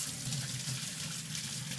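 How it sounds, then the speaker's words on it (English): Tap water running steadily while hands are washed in a kitchen during bread making, a close, even gushing flow with no talk. "So now what I'm gonna do is wash my hands."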